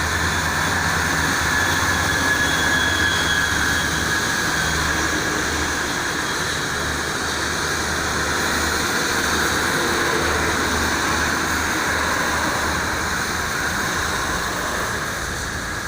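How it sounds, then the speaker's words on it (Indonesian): Heavy rain pouring down on a highway toll road, a dense, even hiss of falling water that stays loud and unbroken throughout, with a faint low rumble beneath and no voices. "Cuma hujannya aja yang deras."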